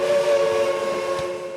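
Antique steam train whistle at Cass, West Virginia, sounding as one sustained, steady tonal blast, loud and unbroken throughout.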